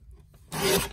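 Paper being trimmed for a file folder folio, a short rasping cut that starts about halfway through, close and fairly loud after a quiet lead-in, with no voices.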